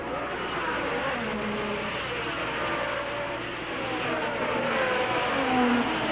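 A 1980 Formula 1 Alfa Romeo race car rejoins the track from the pits at the British Grand Prix, its engine a steady distant whine within broad crowd and broadcast noise.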